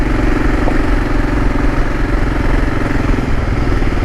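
An adventure motorcycle on a gravel road on the way to the coast, its engine droning loud and close in a steady rumble with wind and road noise throughout, no voices.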